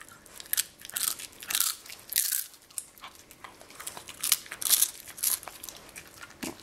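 A dog crunches small fry-shaped snack treats, with repeated close, sharp bites and chewing crunches in irregular bursts and no talking.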